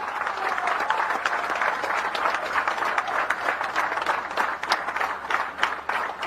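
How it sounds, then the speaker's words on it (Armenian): A crowd at a political rally in Gyumri breaks into loud applause, dense continuous clapping that holds steady for several seconds with no break. "բարձր ծափահարություններ"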